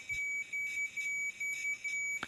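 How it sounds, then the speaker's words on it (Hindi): Multimeter continuity beep while probing the line filter coil of an LED bulb driver, a thin steady high tone pulsing on and off several times, fairly faint, with a brief click of a probe near the end. "इसमें बीप की साउंड सुनाई दे रहा है"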